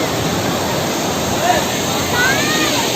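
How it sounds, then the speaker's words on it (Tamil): Water rushes steadily over a village dam, a loud, continuous broadband roar filling the scene without a break. "இங்கே இந்த தண்ணி போகிற இது பாருங்கள்"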